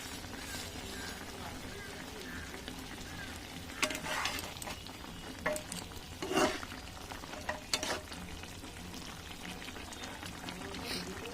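Fried cumin and green chili are tipped into a simmering potato and green banana curry in a wok, giving a quiet, intermittent sizzle with a few distinct clatters and scrapes of stirring.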